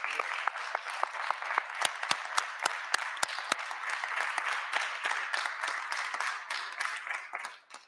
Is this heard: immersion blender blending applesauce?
no